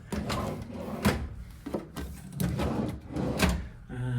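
Drawers in a Flamingo Las Vegas hotel room slide open and shut in a series of close, loud knocks and scrapes, several in quick succession over a few seconds.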